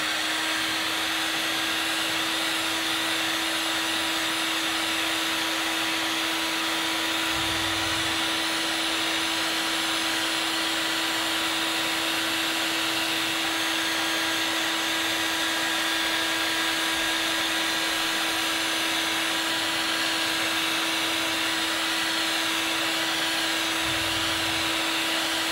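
A hair dryer blows steadily on freshly applied leather colour in a workshop, a constant loud whir with a fixed tone that holds through the whole stretch, with no voices.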